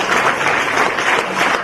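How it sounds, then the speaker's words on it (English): Applause at a felicitation ceremony hosted by a state Governor, a steady wash of many hands clapping from a large seated audience, loud and continuous throughout. "Applause."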